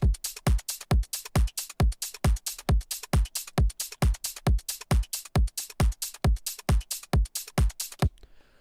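A punchy electronic drum mix of hard-hitting kicks on a steady fast beat layered with crisp top percussion spreading wide, looping loud and dry for several bars before stopping abruptly.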